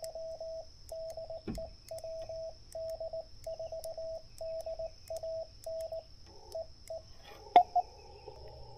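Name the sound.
another station transmitting on same radio frequency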